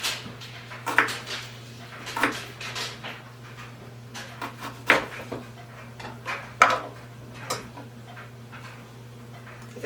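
A knife cutting ginger into thin slices on a board for blueberry lemonade, giving sharp, separate clicks at spaced intervals over a steady low hum, close and fairly quiet.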